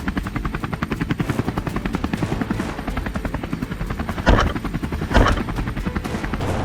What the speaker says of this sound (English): The moment they heard the distant roar of the helicopter, they scattered